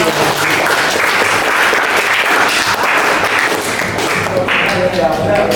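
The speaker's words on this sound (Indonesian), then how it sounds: "Tepuk tangan buat teman-teman." Schoolchildren in a classroom clapping loudly for their classmates, a busy, continuous patter of hands with some voices mixed in.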